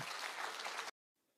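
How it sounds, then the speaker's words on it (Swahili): Loud, dense applause from an audience at an outdoor county security forum in Nyamira, Kenya, roaring steadily for about a second before cutting off abruptly, followed by a faint, low murmur. "Makofi ya heshima."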